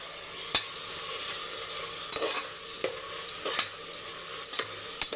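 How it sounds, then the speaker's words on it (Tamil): Ginger-garlic paste and three medium tomatoes fry in a pan with a steady low sizzle. Occasional clinks and scrapes of stirring sit over it, close and moderately quiet, with no talking. "இப்போ இந்த சைடு வதங்கட்டும்"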